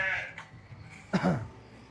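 A sheep bleats once nearby, a short wavering cry over a faint background murmur.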